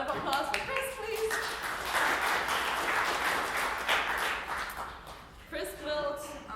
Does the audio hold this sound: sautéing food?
no